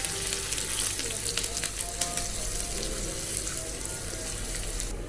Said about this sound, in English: Add crushed garlic and cumin. And then add some curry leaves. Saute well.